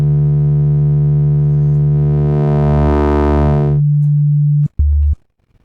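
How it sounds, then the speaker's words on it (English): Synthesizer sine wave under phase modulation on a formant oscillator, a loud sustained tone whose upper harmonics swell and brighten midway before it drops back to a plain low tone, then cuts off briefly and resumes for a moment. "Here is modulating this sine wave."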